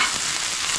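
Plant-based bulgogi fried rice sizzles steadily in a wok, a dense, continuous hiss of frying as rice chunks are broken up, close and moderately loud with no voices.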